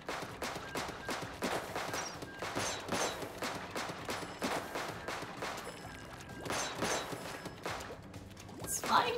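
Contra Blaster shots and splattering impacts during a Splatoon 3 match, a rapid string of sharp bursts and crashes at moderate volume, dense and repeated throughout.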